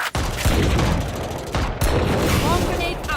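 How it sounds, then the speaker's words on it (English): Swarm grenades from Phoenix detonate in Valorant gameplay, producing a rapid burst of gunfire-like pops and booms in close succession, loud and dense, with game sound effects layered throughout. "Placing swarm grenade."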